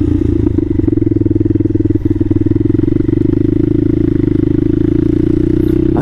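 A Bashan Motomax 250 motorcycle fitted with a Nibbi PE30mm carburetor runs steadily while being ridden, its loud, close engine drone holding an even pulsing note throughout.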